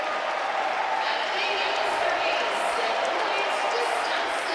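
A crowd of about 7,000 fans roars at a women's volleyball match at the Wisconsin Fieldhouse in Madison on set point, a dense sustained cheer with a voice over it.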